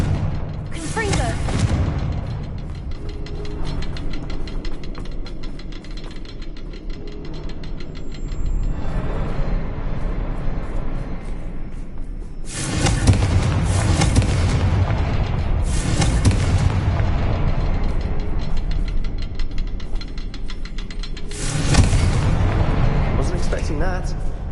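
Confringo blasting spells in Hogwarts Legacy burst as several loud booming explosions spread across a long stretch of dense game combat noise, with rumbling blasts and clattering effects and the biggest hits coming in the second half.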